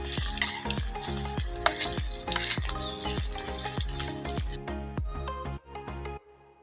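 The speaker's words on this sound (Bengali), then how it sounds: "বন্ধুরা তার সাথে বড়াগুলোকেও আমি ভেজে নিচ্ছি এখন উল্টে দেবো" Fish roe fritters fry in hot oil with a loud, constant sizzle and regular sharp clinks from a utensil, then the sizzle cuts out near the end, leaving a few faint clatters.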